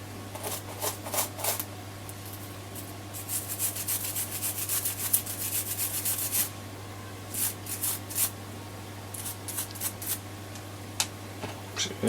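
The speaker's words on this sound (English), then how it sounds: "I'm just cleaning it out with a bit of alcohol now. Make sure that all that crud is gone." A module from a Roberts R707 radio is scrubbed clean with alcohol, producing soft, irregular brushing and rubbing strokes in short bursts over a steady low electrical hum, close and fairly quiet.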